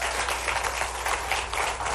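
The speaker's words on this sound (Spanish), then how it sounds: "Un aplauso para Toledo" An audience applauds for Toledo, a dense, steady wash of clapping that carries on loud and close without a break.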